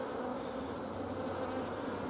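Honey bees buzz densely and continuously around frames of pollen-filled comb at an open hive, a close, steady drone with no voices.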